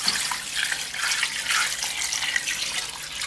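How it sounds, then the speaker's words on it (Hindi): Water pours steadily into a cooking pot while chicken pulao is being prepared, a continuous splashing rush that stays level throughout with no talking. "और साथ ही इसमें आप ऐड कर लेंगे 8 कप्स ऑफ वाटर।"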